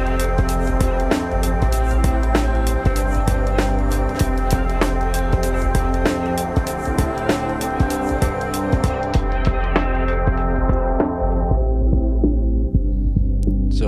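A basic beat programmed on a Teenage Engineering OP-1 synthesizer plays alone for about fourteen seconds. Steady, loud rhythmic thumps sit under sustained tonal synth layers, and the pattern fades near the end.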